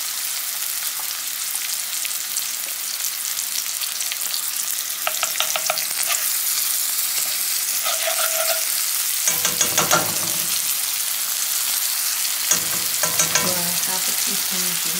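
Garlic and ginger sizzle in a pan over medium heat, a steady crackling fry with occasional scraping bursts as a utensil stirs them, no voices.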